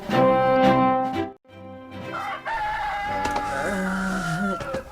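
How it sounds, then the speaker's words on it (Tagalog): A rooster crows loudly and close by, a long harmonic call, then after a brief pause a second drawn-out crow trails off. "Nakaringak gapo iti tarawak di manok"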